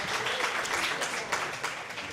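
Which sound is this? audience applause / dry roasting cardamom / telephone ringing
audience applause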